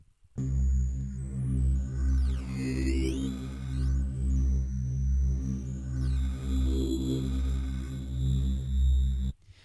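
Buzzy electronic synth tone designed in Xfer Serum with downsample waveshaping for video game sound design, a sustained gritty drone with a wobbling, throbbing texture and sweeping pitch bends, heard alone for several seconds.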